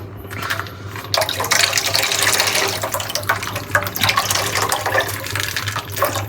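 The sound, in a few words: water being poured into a cooking pot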